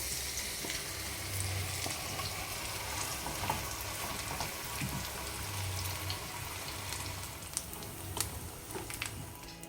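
Soya chunks dry-frying in a pan, a continuous hiss and crackle that holds steady throughout, with occasional stirring scrapes.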